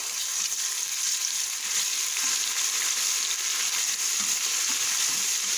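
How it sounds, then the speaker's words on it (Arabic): Garlic frying in a pan while cooking Egyptian koshari at home, a steady, close sizzle with a bright crackling hiss and soft stirring, and no voices. "دخلت على التحمير، نحط التومه بتاعتنا"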